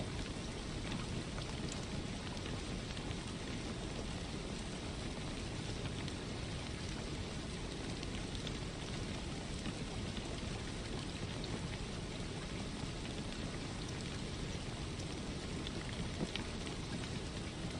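Rain in a flight simulator game makes a steady, dense hiss with no pauses, at a low level under the cockpit hum.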